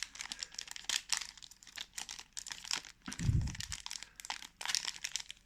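Dragon Ball trading card booster packs are torn open by hand, giving a quiet, steady run of crinkling and ripping foil wrapper with a dull thump partway through and no voices.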